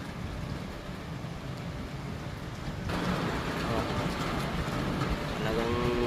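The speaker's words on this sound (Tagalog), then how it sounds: "Talagang lakas ng ulan dito, lakas pati ng hangin." Heavy rain pours down amid strong wind in a steady, dense hiss that grows louder partway through, while someone talks over it.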